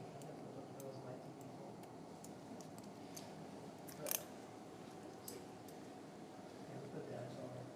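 Surgical scissors snip during a dog's interscapular sarcoma surgery, giving faint, scattered clicks with one sharper cut against a low background murmur.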